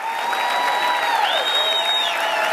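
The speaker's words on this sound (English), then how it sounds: "Keep your hands clapping for all the new family members joining this team." A live audience at a company presentation keeps up continuous hand clapping, a bright, steady patter with tones ringing faintly underneath.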